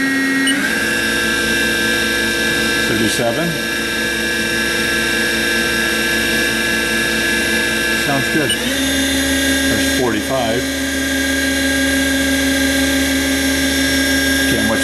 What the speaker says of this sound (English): And you can hear the spindle at the same time.